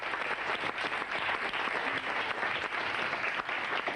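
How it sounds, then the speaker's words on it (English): A studio audience on a live Saturday-morning television show applauds steadily for a young singer, a dense, even wash of clapping that holds at the same level throughout with no voices over it. "your round of applause"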